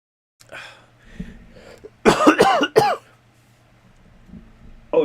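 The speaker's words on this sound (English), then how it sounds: "I heard that cough" Coughs during a livestream: a quiet throat sound first, then a burst of three harsh, close coughs in quick succession, followed by silence.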